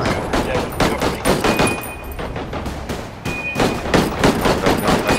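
Gunfire in the tactical shooter game Ghost War, a close, loud series of rapid shots in uneven bursts and volleys with brief gaps between them, no voices over them.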